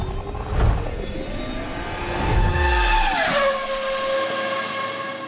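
A rally car in a racing sim game: engine revs rise and fall through gear changes with tyre noise and a loud thump, a continuous loud drive with no talk.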